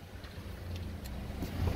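A 2012 Honda Accord Special Edition car runs with a soft, steady low engine hum, fairly quiet and rising slightly toward the end.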